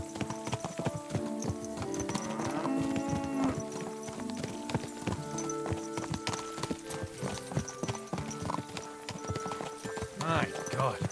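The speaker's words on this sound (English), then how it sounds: "My God, that looks like a bloody expensive horse." Horse hooves clip-clopping steadily in the medieval video game Kingdom Come Deliverance II, a close and continuous rhythmic trot with a brief whinny, under characters' talking.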